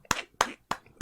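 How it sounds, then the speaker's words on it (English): Four sharp hand claps from one person, close and evenly spaced about a third of a second apart, each a crisp isolated slap with quiet between and no talking. "I'm clapping"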